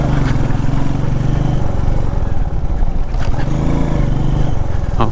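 Royal Enfield Meteor motorcycle riding over a rough, potholed road, a steady loud engine drone with wind rush and bumpy low rumble throughout, no talking.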